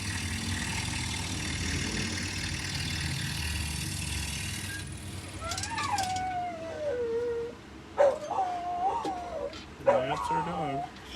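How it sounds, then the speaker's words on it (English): A pet dog whimpers and yips in a series of high, wavering whines after a stretch of steady background noise, fairly close and moderately loud. "That's our dog."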